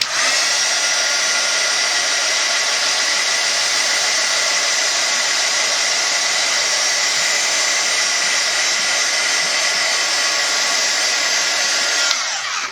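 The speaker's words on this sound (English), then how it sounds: "I'm gonna go ahead and hit this with a puff of the heat gun" A heat gun blows hot air over wet paint on a small craft piece, giving a loud, steady, hissing whine that runs unbroken for several seconds before it cuts off at the end.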